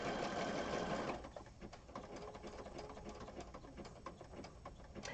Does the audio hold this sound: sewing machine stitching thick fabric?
yes